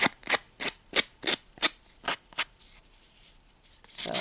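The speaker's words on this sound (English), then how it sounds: "This is probably 100 grit sandpaper. So it's kind of rough, so it's doing that little tearing that we want." Coarse 100-grit sandpaper rubbing against paper for a miniature Halloween craft, about eight loud rhythmic scratchy strokes in quick succession, then a pause with faint rustling and one final stroke, close up and alone.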